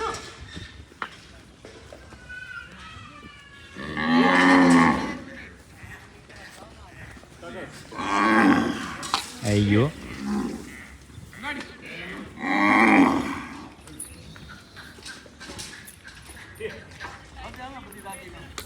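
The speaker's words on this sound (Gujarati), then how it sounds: "ગાયોને આવવાનો સમય થઈ ગયો છે" Dairy cows on a Gujarati farm moo loudly as they arrive one after another for milking, three long drawn-out calls close by, with someone speaking briefly and hoof and yard noise between.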